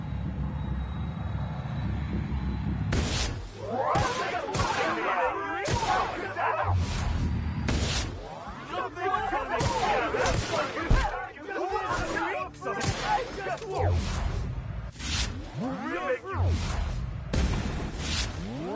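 Gunshots in the space western game Gunslingers in Space, a series of sharp cracks spaced a second or two apart over a low engine-like drone, with talking mixed in between shots.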